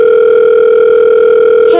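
Steady telephone dial tone heard while placing a call, a loud continuous electronic hum holding one pitch for nearly two seconds, breaking at the very end.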